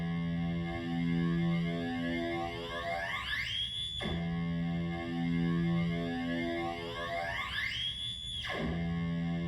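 Modular synthesizer tone shaped by an Erogenous Tones Radar envelope generator: sustained buzzy harmonic drone that twice sweeps upward and snaps off, repeating in a slow cycle, loud and alone with no talk.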